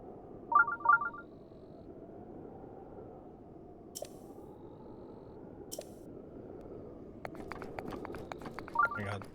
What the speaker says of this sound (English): That beeping noise for the scanner.